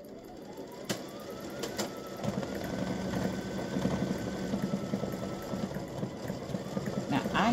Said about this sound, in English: then let that finish stitching.